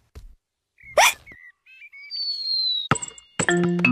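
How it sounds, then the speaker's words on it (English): Cartoon pig George from Peppa Pig hiccups in short, sharp, high-pitched bursts, several isolated yelps separated by brief pauses with chirpy squeaks between, fairly loud and alone. "George, please stop hiccuping."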